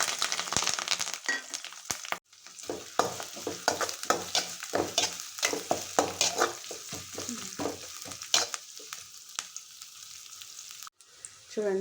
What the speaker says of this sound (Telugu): ఆనియన్స్ కొంచెం గోల్డెన్ కలర్ వచ్చేంత వరకు ఆయిల్లో బాగా కుక్ చేసుకొని